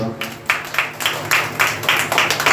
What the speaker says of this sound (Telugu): అందరం ఒకసారి గట్టిగా చప్పట్లు కొడదాం.